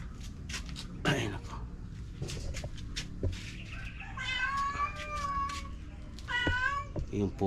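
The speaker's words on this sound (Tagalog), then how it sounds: "Yung pusa na naman," A domestic cat meows several times, drawn-out wavering cries near the end, mixed with scattered household knocks and shuffling, and a person talks briefly in the background.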